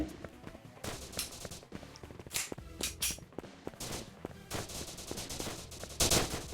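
Gunfire from a sniper rifle in the mobile shooter game Battle Gun 3D: a series of sharp, irregular bursts rising over quieter in-game background noise.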